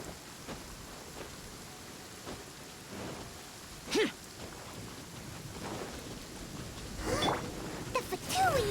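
Rain falls steadily in the fantasy world of Genshin Impact, a soft hiss of drops beneath several faint thunder rumbles and sharper crackles that grow more frequent toward the end.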